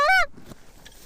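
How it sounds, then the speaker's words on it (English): A single loud, close goose honk rings out at the start, followed by faint rustling and soft distant noise as geese take flight. "the geese decided to fly"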